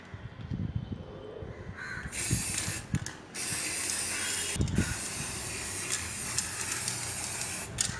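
A steady, loud aerosol hiss of spray paint applied over a stencil on a stool runs almost continuously after a few seconds of scraping and rattling, with brief pauses between bursts of spraying.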